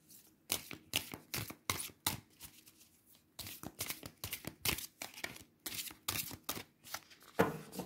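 Very large oracle cards being shuffled by hand, a run of crisp riffling and slapping bursts in irregular clusters with short pauses, close and fairly quiet.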